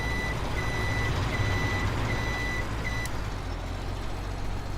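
Truck reversing alarm in Farming Simulator 17, a steady series of evenly spaced high beeps over a constant low engine rumble, moderately loud and with no talking.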